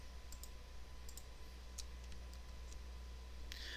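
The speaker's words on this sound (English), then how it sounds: "Click, click, click." Computer mouse clicks during drawing work, a handful of faint, crisp ticks spaced unevenly over a low steady background hum, close but very quiet.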